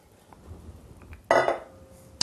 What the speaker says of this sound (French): On va ensuite prendre une casserole, mettre ce jus dans notre casserole.